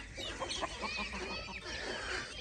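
A hen in a backyard flock clucks in a quick series of short, nearby calls, with other fowl noises mixed into a busy background.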